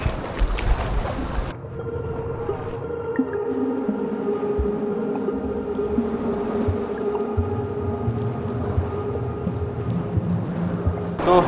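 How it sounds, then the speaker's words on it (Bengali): Paddles on both sides of a small rowing boat in Thailand near Phuket dip and splash water in irregular soft strokes, with wind buffeting the microphone and faint drips between. "দুদিকে বৈঠা মেরে চালাচ্ছি"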